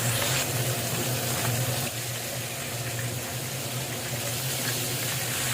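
Rui fish pieces laid one by one into hot mustard oil in a frying pan, giving a steady close sizzle and hiss that stays dense throughout, easing slightly partway.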